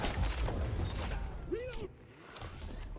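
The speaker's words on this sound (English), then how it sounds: "Swapping mags!" Magazine swap in the video game XDefiant: a quick mechanical clatter and creak of the mag coming out and going in, close and fairly loud over busy game noise with no talk.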